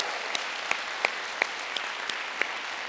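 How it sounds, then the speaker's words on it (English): A small audience at a youth poet laureate celebration gives a steady round of applause, even dense clapping throughout with a few sharper individual claps standing out nearby. "So one more round of applause."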